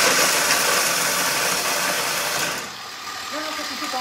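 A food processor runs at top speed or turbo while making carrot cake batter, giving a loud, steady motor whir with rattling vibration that drops to a lower hum near the end.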